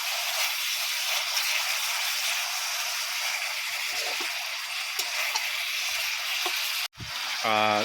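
Bamboo shoots stir-fried with pork and seasoning in a pan, a steady loud sizzle of frying with occasional clinks of a utensil against the pan and a brief sharp scrape near the end.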